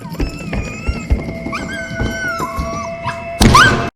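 A dog howls in long, wavering, rising and falling tones, with soft thuds and rustling beneath it and a louder burst at the end.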